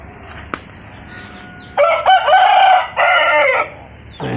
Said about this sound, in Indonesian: Nah ini ada ayam kita nih.